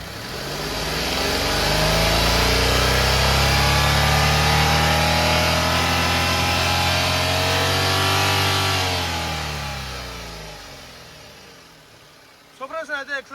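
A 2018 Renault Kwid RXT Climber engine revs up from idle and holds a loud, steady high rev for several seconds, then winds back down to idle, followed by a few quick blips at the end.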